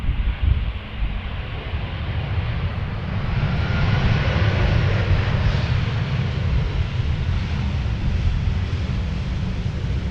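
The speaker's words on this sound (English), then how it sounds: "We have a Lufthansa arriving from Munich" A Lufthansa airliner arriving from Munich at Amsterdam Schiphol roars steadily overhead, a broad engine rumble with wind buffeting the microphone, building slightly and holding loud for the whole stretch with no talk.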